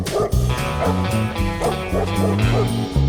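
A cartoon dog barks and yips repeatedly over a music-like bed, with quick rhythmic bursts throughout, loud and close.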